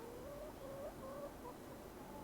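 Chickens cluck in the video game The Excavation of Hob's Barrow, several short pitched clucks and calls over a quiet farmyard ambience, soft and fairly distant.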